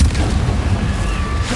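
A Confringo fire spell bursts in the Hogwarts Legacy video game on PS4, a loud, close, rumbling explosion that booms at the start and roars on for over a second; no talking.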